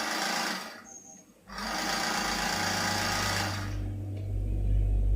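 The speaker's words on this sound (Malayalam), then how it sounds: "അങ്ങനെ 2 ഭാഗം ഒന്നിച്ച് തയ്ച്ച് ഒരു അടിപ്പൂടെ അടിക്കാം" A sewing machine stitches two pieces of a frock-style nighty together, a rapid close whirring run that stops for a moment, then picks up again and keeps going.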